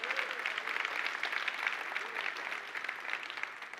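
An audience claps at a conference keynote, a steady moderate round of applause in a large hall heard at a slight distance, with a faint voice underneath.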